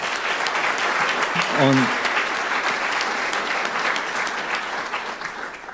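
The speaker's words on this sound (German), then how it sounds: "Und ich denke, das ist auch mal ein Applaus wert." Audience applause fills a hall during a lecture event in Bautzen, a steady clapping wash lasting several seconds after someone briefly speaks, then gradually thinning toward the end.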